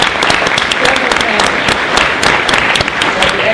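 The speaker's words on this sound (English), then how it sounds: "Give her an applause," An audience at a congressional briefing on youth incarceration applauds a standing guest, producing brisk, dense clapping with a few louder individual claps throughout, fairly close and loud.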